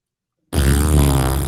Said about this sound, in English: That fart noise is apt here.